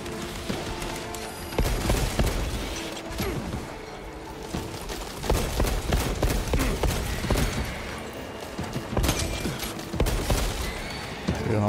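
Dense bursts of rapid gunfire ring out in Warhammer 40k Space Marine 2 while Tyranid swarms are shot at, with sharp repeated shots and booms layered continuously over loud game action.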